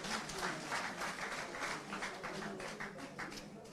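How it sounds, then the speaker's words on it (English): Applause for party leaders and parliamentary caucus members at a political gathering, a soft, continuous patter of many clapping hands heard from a distance, with faint voices beneath. "Please, let's acknowledge them with a round of applause"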